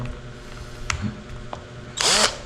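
A cordless power drill whirs briefly near its end after a battery is clicked in, preceded by small handling clicks and knocks, with no talk.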